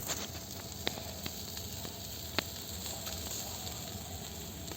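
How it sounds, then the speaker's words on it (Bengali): Marinated chicken pieces frying in oil for a barbecue, a faint, steady sizzle and hiss with a few soft pops and crackles scattered through it. "এখন চলে যাই আমরা যেখানে ভাজা হচ্ছে।"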